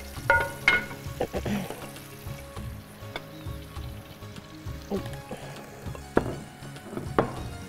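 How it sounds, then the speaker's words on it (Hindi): Beans frying in oil, a soft bubbling sizzle broken by several clattering knocks and stirring sounds, close but fairly quiet, with no talking. "इसमें थोड़े से बीन और फ्राई कर लेते हैं"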